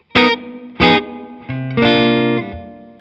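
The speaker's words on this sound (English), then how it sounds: "let's bring that reverb 5, bring up a little more of it" Electric guitar through the TONE X Double Special plugin with reverb turned up: two short picked chords, then longer ringing chords that trail off into a reverberant tail, loud and close with no voice.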